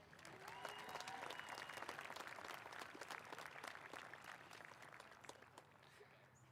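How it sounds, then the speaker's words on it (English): A crowd at a 2021 high school graduation ceremony applauds the class presidents with steady, sustained clapping that fills the hall from start to finish, slightly distant. "One more round of applause for the class presidents."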